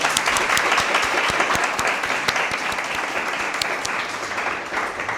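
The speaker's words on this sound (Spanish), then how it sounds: "Un aplauso para Pablo." An audience at a talk on the Middle Ages for young people claps for the speaker, a dense, sustained round of applause with crisp individual claps standing out, slowly easing off toward the end.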